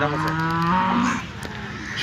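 A dairy cow at the Loni cattle market lets out a loud, drawn-out moo close by, one long lowing call that fades toward the end, with no one speaking over it.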